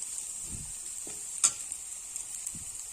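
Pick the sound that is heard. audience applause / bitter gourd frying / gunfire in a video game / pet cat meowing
bitter gourd frying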